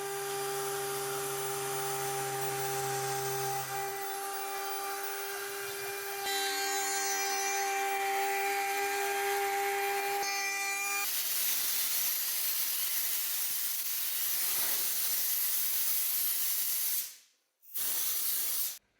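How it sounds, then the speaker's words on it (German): A CNC router with a sharp 16 mm two-flute cutter mills spruce wood, a steady airy hiss with high tonal spindle whine that shifts partway through, continuous and fairly close before briefly dropping out near the end. "ich liebe es, Fichtenholz mit scharfen Fräsern zu fräsen"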